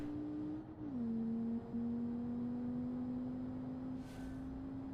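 In BeamNG, a race car engine holds a steady, sustained drone with a smooth pitch that dips slightly once and then stays even. It sounds moderately close, with a brief hiss near the end and no talking.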